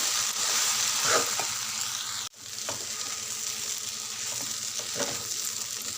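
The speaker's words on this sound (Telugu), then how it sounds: "కరిగి పెట్టుకున్న అటుకులు ఇందులో వేయాలి వేసి బాగా కలిపేదాకా కలపాలి" Flattened rice (poha) upma with tomatoes is stirred in a hot pan. A steady sizzle carries a few soft scrapes of the spoon, with no voices.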